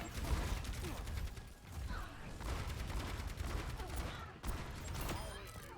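Gunfire and a grenade in the video game Overwatch 2 come as a dense, rattling spray of repeated shots and mechanical clatter, running continuously at moderate level with brief dips, no speech over it.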